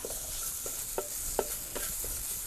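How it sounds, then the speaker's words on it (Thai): Coriander root, garlic and pepper stir-fried in a little hot oil give a soft steady sizzle, with a few brief scraping or clinking stirs of a utensil in the pan. "รากผักชีกระเทียมพริกไทยไว้เรียบร้อยแล้วค่ะใส่ ผัดให้หอมเลยนะคะ"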